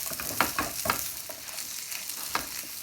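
Garlic and ginger, cut into big slices, frying with onions in a pan, giving a soft steady sizzle broken by a handful of sharp scraping stirs, with no voices.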